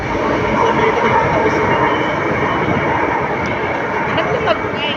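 Loud, continuous rumble and rattle of a light rail train passing a station without stopping, close by and steady throughout, with a faint screech toward the end.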